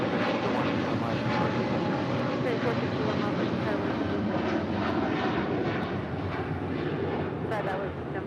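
A heavy United airliner takes off from runway 25 right at LAX, a loud, steady broadband jet roar that fills the whole stretch, with faint radio chatter underneath.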